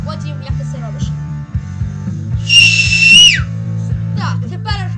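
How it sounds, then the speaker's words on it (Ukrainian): A person produces a loud, piercing whistle, a single steady tone held for about a second, over a droning background hum, with people talking before and after. "сьогодні мій друг вам покаже робити свист"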